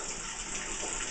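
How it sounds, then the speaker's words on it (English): Water is poured from a cup to rinse a cat during a bath, a brief soft splashing trickle heard on its own. "I like to take my cup and rinse him off and do it over and over again."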